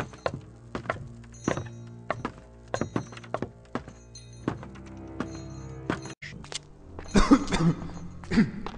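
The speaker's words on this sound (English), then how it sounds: "how long have you had that cough?" Repeated sharp thuds, like footsteps, run throughout, followed near the end by a burst of rough coughing, close and fairly loud.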